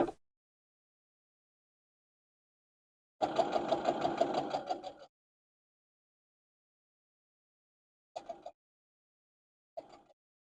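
Sewing machine stitching quilt block pieces for a 12-inch block, one buzzing run of about two seconds followed later by two short stitching bursts, with silence between.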